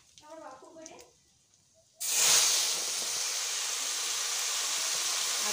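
Whole cardamom, black cumin and bay leaves hit hot oil for a village-style Bengali rui fish kalia, setting off a sudden loud, steady hiss that follows a few quiet words and carries on alone.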